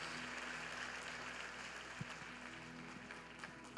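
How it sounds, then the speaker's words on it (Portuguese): A church congregation applauds in a sustained, fairly quiet wash of clapping, steady and distant-sounding throughout, with faint room murmur. "Então dá uma salva de palmas bem forte para ele."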